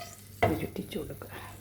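Mustard seeds go into a little hot oil on a tava and are stirred, with one sharp scrape followed by a soft sizzle and faint utensil taps, briefly and close by.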